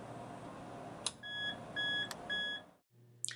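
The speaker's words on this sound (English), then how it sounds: "you will hear 3 beeps." A planetary mixer signals that its lid is safe to open with three clear, evenly spaced electronic beeps, close and clean over a low hum, followed by quiet and a faint click.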